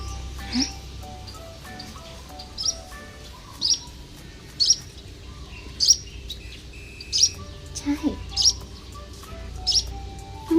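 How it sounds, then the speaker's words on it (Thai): High, thin chirps from a baby bird repeat every second or so, close and clear over a quiet background with a low hum. "น้องเขาส่งเสียงน้องเขาร้องจิ๊บ"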